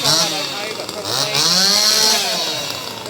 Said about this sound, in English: We've got like people with chainsaws and stuff wandering around now.